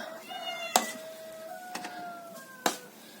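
A stray cat wanders a winter farmyard during morning chores, meowing three times in clear, drawn-out tonal cries spaced about a second apart, close and moderately loud with no talk.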